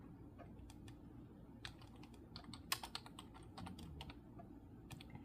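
Keys clatter on a lit-up computer keyboard during a diamond painting session, a quiet, irregular run of soft clicks and taps with a few sharper strokes, close by and with no talking.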